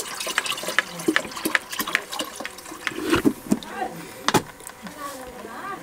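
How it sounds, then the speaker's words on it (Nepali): Water runs from a homemade IR-sensor tap into a jug, a light splashing trickle with irregular drips and clicks, heard close with people talking over it. "जग थाप्दो पनि पानी आएको छ"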